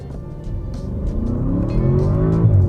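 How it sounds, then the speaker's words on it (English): A 2022 Audi S8 in dynamic mode with its exhaust valves open accelerates hard, a deep engine rumble building steadily in loudness and pitch as it revs up, heard close from the cabin with no talk. "We'll give it a little acceleration run here."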